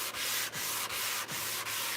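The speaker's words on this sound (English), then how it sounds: "So I'm going to sand this really quick." Wood sanded by hand along the grain, five even back-and-forth strokes of coarse scratchy friction, close and alone.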